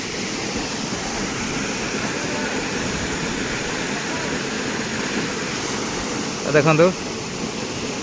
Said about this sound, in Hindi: यहाँ रावणधर वाटरफॉल कि पानी बहुत ऊपर पड़ी